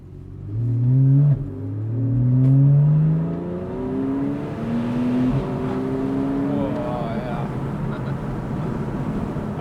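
A Porsche 911 Carrera S (991.1) accelerating hard on a test drive, its engine note climbing through repeated rising pulls with gear changes, heard from inside the car, loud and close under a steady road rush, with brief talk.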